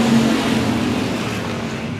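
Race cars at 105 Speedway on a green flag start, a steady roaring drone of engines held close and loud throughout without a break.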